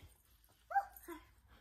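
A small child answers a question by imitating a dog, a single short, faint yip-like bark sound in a quiet room.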